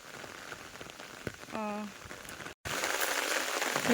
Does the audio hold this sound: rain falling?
yes